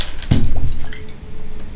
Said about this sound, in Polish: i wodę rozlałam.